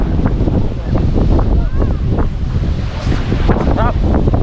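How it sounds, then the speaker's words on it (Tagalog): Strong wind at Looc Beach in Bagac, Bataan buffets the microphone in loud, rumbling gusts, with waves and faint voices under the roar. "Malakas nga lang yung hangin."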